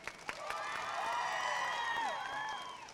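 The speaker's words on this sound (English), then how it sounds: "we need to give Veronica, because we know she loves them, a huge round of applause" Large convention crowd applauding and cheering loudly for a voice actress, a sustained wash of clapping with whoops and high shouts layered on top, swelling and holding for the whole stretch.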